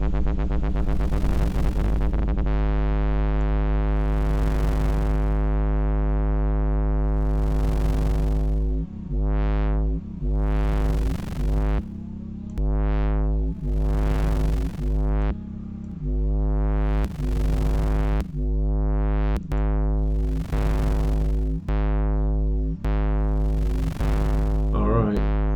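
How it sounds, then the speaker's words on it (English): A modular synthesizer holds a steady, buzzy harmonic drone while a sine-wave LFO modulates the drive, so the tone swells and chops in a regular pulsing rhythm. It plays alone and loud, with no talking. "So the sine wave output, if in doubt, go with sine waves."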